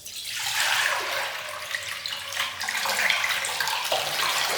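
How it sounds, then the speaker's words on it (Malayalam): Water pours steadily from a tap or vessel into clay cooking pots set to soak, a continuous splashing gush that stays close and fairly loud throughout. "ഇനി ഞാനിത് നിറയെ വെള്ളം ഒഴിച്ച് വയ്ക്കാം."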